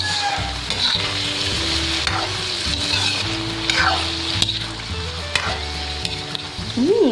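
Water spinach and tofu with oyster sauce being stir-fried in a pan, a steady close sizzle with repeated scraping stirs throughout, fairly loud, with no talk.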